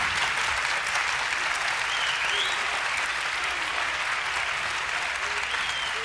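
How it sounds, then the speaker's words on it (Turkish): Studio audience applauding a performer on a Turkish television show, dense sustained clapping from a crowd filling the room, steady and loud from start to finish. "Bu alkışlar niçin biliyorsunuz?"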